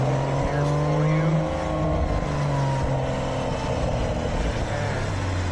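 A Porsche 911 in Sport Plus mode with manual shifting, its engine droning steadily and rising in pitch under acceleration, heard from inside the car while a person talks over it.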